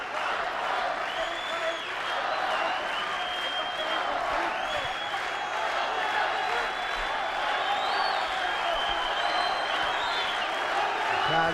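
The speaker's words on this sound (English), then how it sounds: "Well, listen to this crowd here." Crowd noise at an MMA fight, a continuous roar of cheering and applause from the arena with whistles rising above it, steady and sustained throughout.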